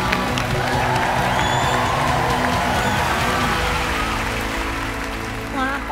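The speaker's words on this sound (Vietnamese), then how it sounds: "vỗ tay cho Cú mấy anh em ơi" Audience applause and cheering fill a television singing-competition studio after a masked performer called Cú finishes, a dense, steady wash of clapping and crowd noise holding for several seconds before easing slightly near the end.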